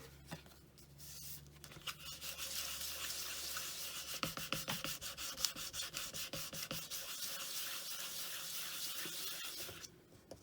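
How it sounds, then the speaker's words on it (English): A silver jewellery piece being burnished by hand, giving a steady scratchy rubbing that runs for several seconds with repeated short strokes, close and moderately loud, no talking. "And I'll give this a burnish."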